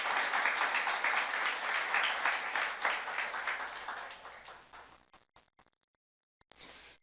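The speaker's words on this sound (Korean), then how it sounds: "박수 한번 쳐보세요" Church congregation applauding during a youth sermon, a dense sustained clapping that swells loud for about five seconds, then fades into scattered last claps and near silence.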